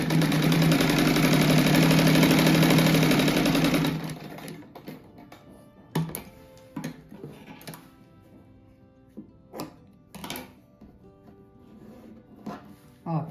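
A sewing machine runs in a steady, loud whirring burst while stitching a patchwork rug, then stops, leaving scattered clicks and handling noises.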